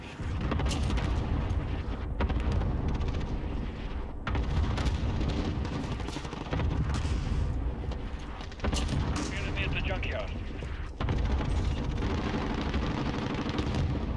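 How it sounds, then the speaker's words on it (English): Loud, continuous barrage of booming explosions from a precision airstrike in a first-person shooter video game, rumbling through the whole stretch with a few sharp bursts and brief dips, while voices and game chatter run underneath. "Allied precision airstrike incoming"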